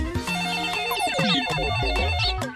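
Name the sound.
telephone ringtone in a cartoon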